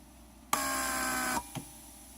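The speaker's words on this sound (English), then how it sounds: "When the pump cycles," A Mercedes 600SEL door lock vacuum pump runs on a bench test, a steady close electric whine with a buzzing hum that starts abruptly, holds for under a second, then cuts off, followed by a brief faint click.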